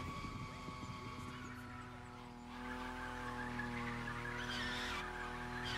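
A BMW M5 Drift Edition in The Crew Motorfest racing game revs with a steady engine drone while its tires squeal in a drift, with game sound effects layered over the engine.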